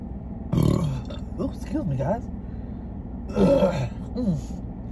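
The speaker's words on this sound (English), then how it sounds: "whenever people burp, I say don't apologize for burping" Throaty burps after a big Thanksgiving buffet meal at Golden Corral, two louder bursts several seconds apart, with a person talking and murmuring in between.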